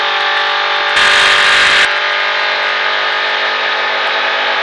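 A sprint car engine on a racing oval at a Richard Petty driving experience holds a steady, loud high-pitched drone, with a brief sharper burst of acceleration near the start before settling back to a constant roar.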